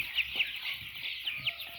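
Young brooding Sasso chickens chirp and cheep in a brooder, a quick series of high peeping calls, several in under two seconds, close and clear.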